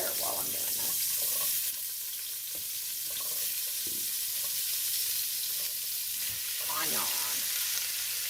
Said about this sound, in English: So we gotta stir this up until the onion is soft and transparent.